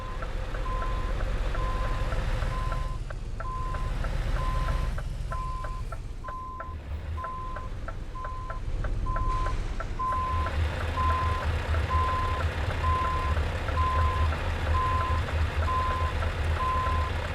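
Steady reversing beeps pulse from a lorry in Euro Truck Simulator 2, a regular, loud series over a constant low engine rumble, continuing throughout without any talk.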